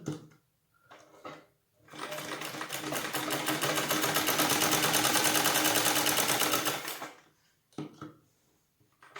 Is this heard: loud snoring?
no